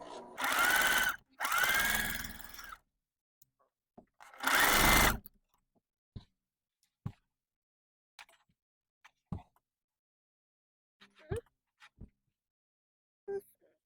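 Sewing machine stitching a quilt block in three short close bursts at the start, followed by scattered light clicks and handling taps in otherwise quiet surroundings.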